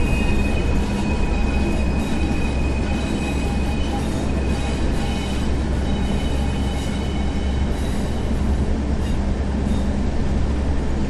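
Train running in Train Sim World 4 on the Blackpool Branches route, a steady loud rumble of wheels on rail with faint squeals and clatter, continuous throughout with no talk.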